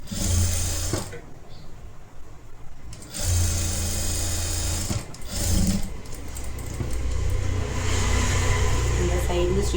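A sewing machine stitches a netted designer blouse in bursts of fast whirring, pausing briefly between runs, close and fairly loud, with someone speaking over parts of it.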